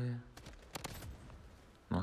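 Gunfire rattles through a shooter video game in a quick irregular string of sharp cracks, fairly quiet, with a voice at the start and end of the short burst.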